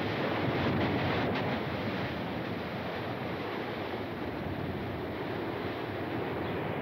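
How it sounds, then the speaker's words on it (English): Big ocean surf breaking at Haleiwa, Hawaii during a very large swell, heard as a loud, continuous roar of crashing waves mixed with heavy wind noise on the microphone. "Haleiwa is a pretty special place. It's one of the few places in the world that handles a really big swell. Right now it's very big."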